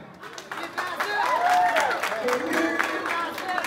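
Scattered clapping and crowd noise rise at a birthday party, moderately loud and close, with a voice and some musical tones mixed in over the few seconds.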